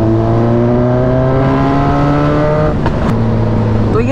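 A Suzuki Katana's inline-four motorcycle engine pulls steadily in sixth gear, its loud, close drone rising smoothly in pitch, then easing briefly before settling into a steady hum again.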